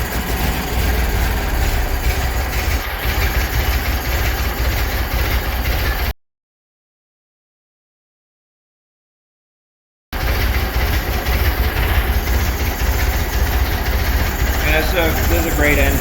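The engine of a 1914 Buick Touring Car idles after a cold start with a steady, rough, low rumble, cut off by several seconds of silence before it resumes, while people talk over it.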